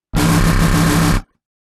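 Dub growl synth patch processed with effects and EQ, highs boosted: one loud, dense, buzzing growl about a second long that cuts off abruptly, heard alone.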